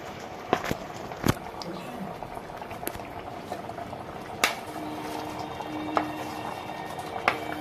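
Prawns drop into a simmering chili gravy, which bubbles steadily at close range with a few sharp clinks and taps of utensils, under a light wash of kitchen background noise.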